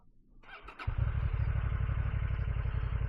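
A Honda Transalp XL750 motorcycle engine starts up close by and settles into a steady, loud idle, with a brief clatter as it catches.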